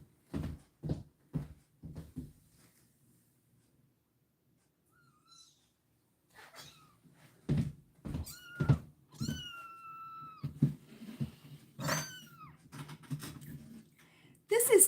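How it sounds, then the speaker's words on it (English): A four-week-old kitten gives several shrill, rising meows in the second half, close by and interspersed with a person talking, after a run of short knocking or handling sounds at the start. "if he meows, it's going to be shrill"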